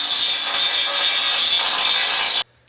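An old Sioux 7-inch two-speed sander from the 1930s dresses welds on a Model A Ford rear crossmember, a steady loud abrasive grinding roar that holds for over two seconds and then cuts off abruptly.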